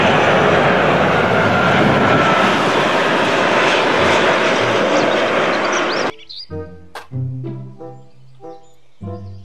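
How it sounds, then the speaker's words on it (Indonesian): Toy airplane sound effect: a loud, steady engine roar that runs for about six seconds, then cuts to a bright run of tonal chimes. "Pesawat terbang."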